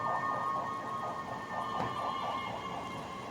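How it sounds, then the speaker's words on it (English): Emergency vehicle sirens wail continuously outside, a steady rising-and-falling tone heard through walls at moderate level with no speech over it. "I'm so sorry about the sirens."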